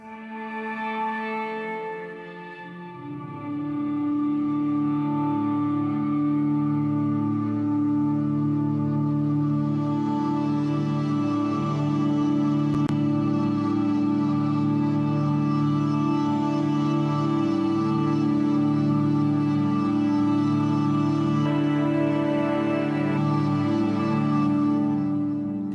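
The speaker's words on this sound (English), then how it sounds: "The main patch is this cello sound, and I've frozen it because it also has a lot of effects on it" Labs cello patch frozen with heavy effects, sustained layered bowed chords swelling into a dense, reverberant drone that holds steady and loud to the end, with no voices.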